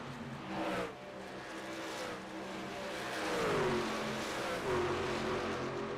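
Race cars and trucks lap the oval at Charlotte Motor Speedway, and their engines roar and rev in a steady wash. Individual machines swell as they pass, with rising and falling pitch sweeps, moderately loud and without any talk over them.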